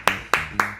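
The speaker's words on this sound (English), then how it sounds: "So let's clap it up for them." Three short, separate claps from an audience, evenly spaced about a quarter second apart, each sharp and fairly close, with nothing else heard between them.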